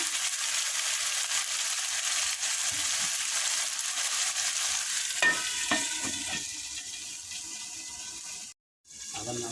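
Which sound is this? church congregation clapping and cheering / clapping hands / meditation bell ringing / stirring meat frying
stirring meat frying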